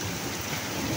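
Thunder rumbles through steady heavy rain in a summer thunderstorm, a dense, continuous wash of downpour and low rolling thunder close by, with no voices.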